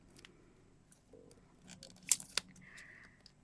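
A few quick, sharp snips close to the microphone, with soft rustling in between in an otherwise quiet room.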